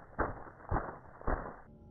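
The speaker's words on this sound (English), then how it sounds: "Any movements around this area will have a louder walk sound like this." Three loud, evenly spaced footstep thuds at the office door in the horror game Five Nights at Freddy's 4, heavy and close, with a faint hum continuing underneath.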